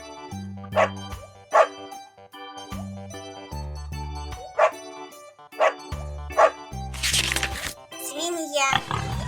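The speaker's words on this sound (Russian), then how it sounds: "Собака." Dog barks from a children's lesson on farm animals and their sounds, several sharp barks spaced across the stretch over a steady low musical backing, with livelier noisy bursts near the end.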